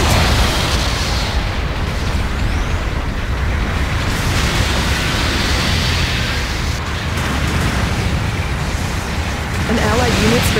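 Explosions and continuous booming battle noise from a mobile suit combat video game, a dense, loud, rumbling wash of blasts and bursts sustained throughout with no clear separate hits.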